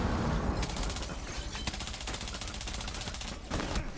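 Rapid automatic gunfire in the video game Rainbow Six Siege during a Border team deathmatch, a continuous loud burst of rattling shots lasting several seconds with a brief pause near the end.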